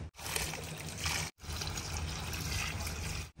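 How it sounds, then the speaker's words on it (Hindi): Water is poured onto potted plants on a rooftop, including a shami plant. It makes a steady, close splashing trickle that stops briefly and then carries on, with no talking. "समी के पौधे को हमने पानी डाल दिया है"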